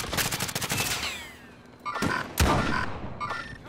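Gunfire in the video game Call of Duty: Modern Warfare: a rapid automatic burst up front, then a pause and several heavier, louder single shots with metallic ringing tails.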